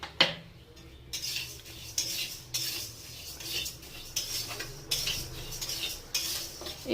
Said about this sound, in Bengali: ভাজা হচ্ছে ডাল।